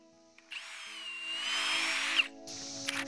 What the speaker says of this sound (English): Again, using a long drill bit, pre-drill the post.